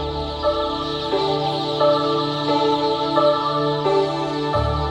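Two groups of young chicks being raised on different drinking water, their peeping and cheeping a steady, overlapping chorus that carries on throughout, fairly close and moderately loud.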